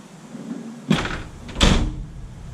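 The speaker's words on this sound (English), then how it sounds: "So this door is air operated, and you see it drops down and comes out." Air-operated plug door on a Neoplan Spaceliner bus cycling, with two distinct pneumatic bursts of hissing and mechanical movement about a second apart, fairly close and loud against a quiet background.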